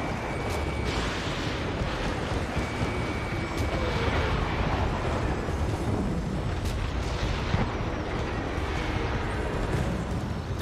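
Missile explosions in the jet combat game Ace Combat 7, a loud continuous roar of rumbling blasts and engine noise with several sharper bursts cutting through.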